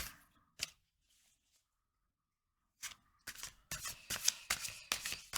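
Lafruma oracle cards are shuffled at close range: a sharp riffle snap, a pause of near silence, then a rapid run of papery riffles and flicks.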